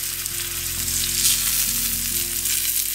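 Herbs sautéing in olive oil in a hot pan, a loud, steady, crackling sizzle running without a break over a low background hum, close up with no voices.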